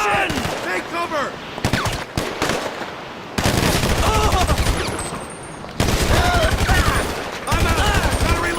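Rapid gunfire in the video game GTA Online, loud bursts of automatic shots and a few single cracks with brief pauses between volleys, with voices talking over the shooting.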